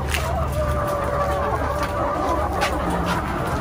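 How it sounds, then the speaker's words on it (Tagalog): RTL layer hens in galvanized cages on a backyard farm cluck continuously and loudly up close, a dense overlapping flock chorus with occasional sharper calls. "check na po natin yung mga alaga po nilang RTL hens"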